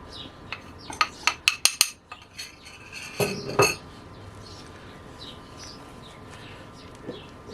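Utensil stirring vanilla cake batter in a bowl, a quick run of sharp metallic clinks and scrapes against the bowl, then a couple of louder scraping strokes before quiet.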